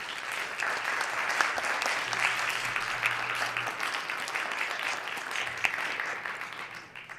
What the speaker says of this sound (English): please welcome them and give them applause